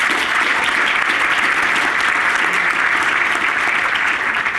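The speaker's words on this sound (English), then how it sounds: "Can I have a big round of applause?" A conference audience applauds a panel, dense sustained clapping from a large crowd filling the room, steady and loud throughout.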